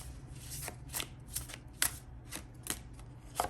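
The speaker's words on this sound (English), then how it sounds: "I barely started shuffling" Tarot cards being shuffled up close in quick riffling bursts, a papery rustle and slap repeating every half second or so, with no talking.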